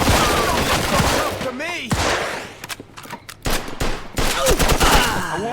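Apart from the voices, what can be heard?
gunfire from the video game Mafia 2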